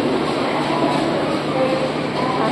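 Trains at Howrah railway station in light rain, a dense steady rolling rumble filling the platform, loud and unbroken, with faint crowd noise beneath.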